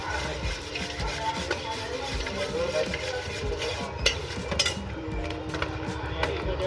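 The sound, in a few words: mixing bhel with potato masala and Rajkot chutney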